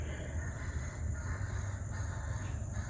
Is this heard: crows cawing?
yes